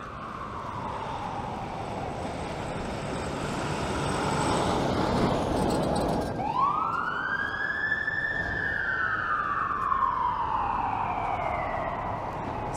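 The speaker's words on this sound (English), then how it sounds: "Here comes the second fire engine." A fire engine siren wails along a Toronto city street on a windy, snowy winter night, sweeping up and down as the truck passes close, heard over steady wind and traffic noise.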